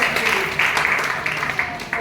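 An audience at a business meeting applauds loudly and steadily, a dense wash of clapping with a few sharper bursts, while voices carry faintly underneath.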